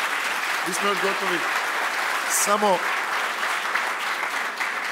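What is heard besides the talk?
audience applause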